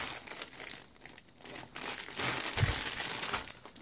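A plastic mail packet holding size S ice crampons crinkles and rustles up close as it is handled and torn open, quiet at first, then a louder, continuous crackling with a brief thump.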